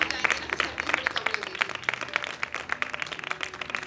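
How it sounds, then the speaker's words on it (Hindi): Audience applause at a Christmas competition, a dense patter of many hands clapping steadily for several seconds, moderately quiet, with faint voices in the crowd. "आप सबकी भरपूर तालियां।"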